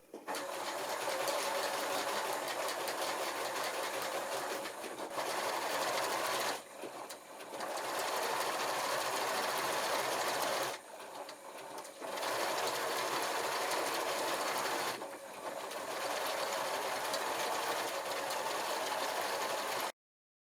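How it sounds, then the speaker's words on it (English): An electronic sewing machine stitching a satin stitch gives a steady, fast mechanical whir in several long runs, separated by brief pauses. "This machine makes a beautiful satin stitch. With the electronic machine, the same result is achieved by the press of a button."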